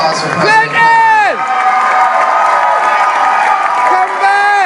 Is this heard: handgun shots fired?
no